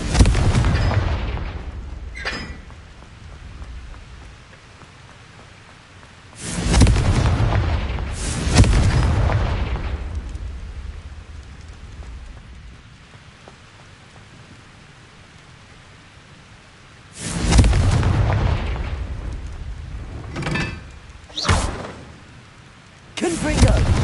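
Confringo fire spells explode in Hogwarts Legacy, producing several loud, booming blasts at irregular intervals, some arriving in quick pairs, with quieter rumbling gaps between them.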